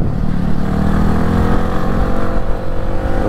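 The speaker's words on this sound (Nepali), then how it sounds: "ओ चन्द्रको कस्तो सुन्दैछ बाइक" A motorcycle engine revs hard inside a tunnel, a loud, continuous roar that echoes off the walls and holds steady for several seconds with no voices.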